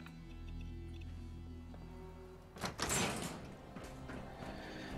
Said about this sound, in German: Tür öffnen.